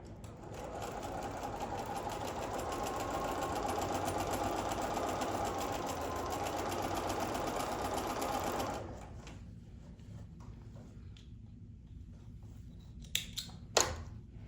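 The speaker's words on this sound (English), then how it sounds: "So I'm gonna sew a 1/4 inch in, 1/4 inch seam allowance" A sewing machine stitches a quarter-inch seam on a denim quilt made from jeans, running with a steady close whirring hum for about nine seconds, then stopping, followed by faint handling clicks.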